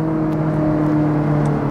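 Ferrari 458 Italia fitted with an S-line exhaust cruising, heard from inside as a loud, steady engine drone with a constant low hum.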